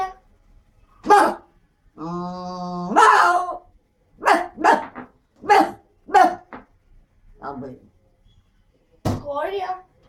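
An elderly woman, about 85, mimics a dog with her own voice, giving a series of short, sharp barks spaced across the clip, alongside one longer voiced call.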